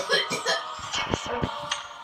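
A person coughs harshly a few times up close, rough throaty bursts mixed with breathy vocal sounds.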